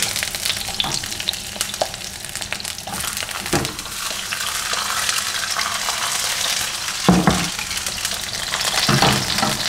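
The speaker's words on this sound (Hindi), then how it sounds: "इसमें आपने फ्राई कर लेना है पहले" Capsicum frying in a hot pan, a loud close sizzle with occasional knocks and scrapes as it is stirred, steady throughout with no talking.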